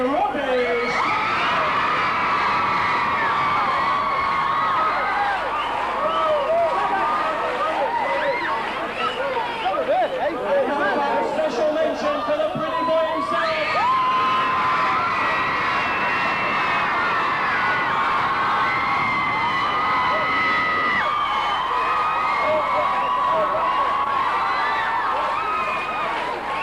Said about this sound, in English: I hear some girls scream now